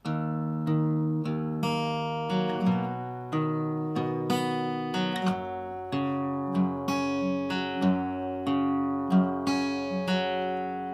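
Slow fingerpicked guitar notes ring out one after another in an even, unhurried pattern, plucked close and clear with bass notes and higher strings alternating.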